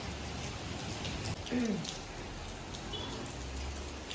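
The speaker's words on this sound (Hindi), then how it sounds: "आज जो है काफ़ी बारिश आ रही है टुडे रेन" Steady rain falls in a broad, even hiss throughout, with a faint bird call and a brief low thump near the middle.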